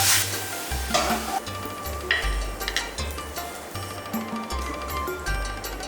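Velvet pioppino mushrooms with squid and scallions, finished with a little oil, are stir-fried in a wok, giving a continuous sizzle broken by repeated scraping strokes of the spatula at a steady rhythm, close and loud.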